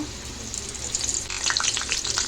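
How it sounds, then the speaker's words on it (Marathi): Curry leaves hit two ladles of hot oil in a kadhai for a dried-shrimp masala tempering. A steady sizzle bursts into louder, busy spitting and crackling halfway through, close and without talk. "मी गॅसवर कढई ठेवलेली आहे त्याच्यामध्ये दोन पळी तेल टाकलेले आपण फोडणी देऊन घेऊया कढीपत्ता"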